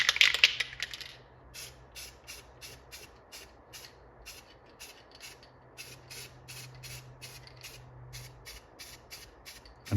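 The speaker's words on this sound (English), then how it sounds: "I'm gonna spray on the second coat here." A strong hiss of spray paint bursts out at the start, followed by a long series of short, rhythmic spray puffs, as a second coat goes on an arcade machine control panel.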